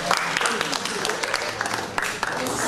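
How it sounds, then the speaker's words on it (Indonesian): Audience applause at a Wayang Gung performance in Kalimantan, a dense, steady wash of clapping from a crowd that fills the whole stretch, with a voice talking over it. "Tepuk tangan"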